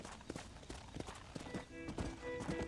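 Horse hooves clip-clop steadily in Red Dead Redemption, a rhythmic trot of sharp knocks at moderate distance, with a brief whinny and tonal game sounds rising toward the end.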